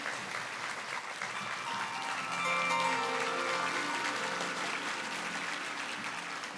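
Audience applause welcoming a singer onto the stage at a music concert in Shivamogga, a dense sustained clatter of many hands that swells midway and holds, with faint crowd noise.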